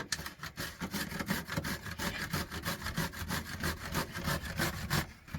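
Courgettes are grated by hand against a grater in fast, rhythmic scraping strokes, close up and steady, with no voices.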